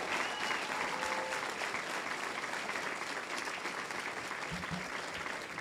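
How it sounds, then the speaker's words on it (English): A big round of applause at a swearing-in ceremony for State Senator Anna Kaplan, steady dense clapping from the audience that holds throughout, fairly distant and even in level. "let's begin with a big round of applause for the person of the day, the person of honor, Anna Kaplan"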